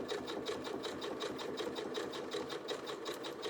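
A sewing machine runs steadily, stitching fabric with a fast, even mechanical chatter, close and continuous with no talking.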